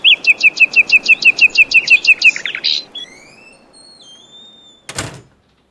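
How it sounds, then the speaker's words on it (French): A bright electronic birdsong doorbell chime trills in a rapid series of chirps, followed by softer sliding whistles and a sharp click near the end. "Les oiseaux chantants, qui servent de sonnettes, s'exclament."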